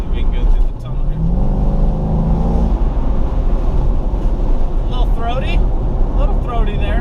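A 1998 car with an LS/LT V8 and the AC running rumbles loudly through a tunnel, its choppy idle and throaty exhaust echoing throughout, with a brief rising rev early on and a voice talking over it.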